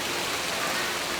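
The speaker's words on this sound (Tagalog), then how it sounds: "Biglang bumuhos ang malakas na ulan." Heavy rain pours down suddenly on a school in a flood-prone area, a steady, dense broadband hiss with no pauses that stays even and fairly close throughout the short stretch.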